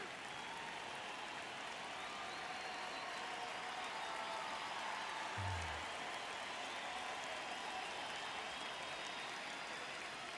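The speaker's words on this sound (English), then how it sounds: "I like how you can hear the crowd cheering." A large crowd roars and cheers continuously at a steady level in the baseball video game MLB The Show 26, with a single brief low thump partway through.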